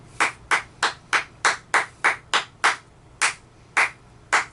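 Hands clap a quick rhythmic pattern, a burst of eight fast claps followed by a few slower, spaced ones, crisp and close with a quiet room behind.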